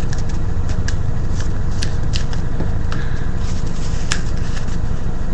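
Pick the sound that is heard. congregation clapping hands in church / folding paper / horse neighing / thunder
folding paper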